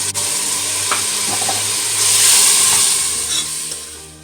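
Tomato, cumin and spice masala sizzles and fries in a karahi for mutton karahi, a loud continuous hiss with stirring scrapes and a brief swell of steam midway.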